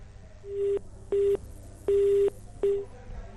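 A telephone busy tone sounds after a phone line connection drops: four short, evenly spaced beeps at a steady pitch, each clear and moderately loud over a low line hiss.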